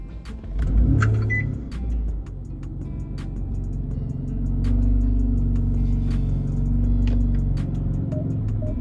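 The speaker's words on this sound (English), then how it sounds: "Let me crank the car up real quick." A Jeep Grand Cherokee's engine cranks and catches close by, settling into a steady idle rumble that swells slightly as it revs, with faint clicks and a soft beep over it.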